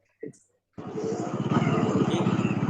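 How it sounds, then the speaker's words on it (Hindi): A motorcycle engine rumbles in the background at an outdoor farmers' discussion, starting abruptly after a short sound and continuing as a pulsing, steady drone beneath a voice. "अरे ये मोटरसाइकिल वाले का थोड़ा सा म्यूट कर दो"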